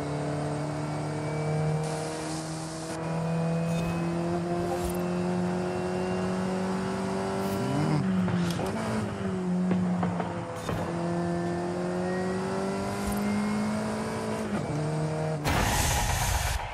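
A racing video game's Alfa Romeo 4C engine drones steadily and loudly, its pitch climbing and dropping through gear changes and revs, with no voices over the continuous motor sound.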